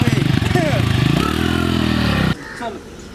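A new motorcycle's engine running close by, a steady mid-pitched drone with a chugging pulse that cuts off abruptly, while people talk over it.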